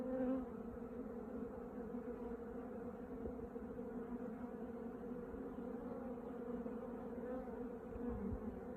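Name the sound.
bees and small wasps buzzing at apiary hive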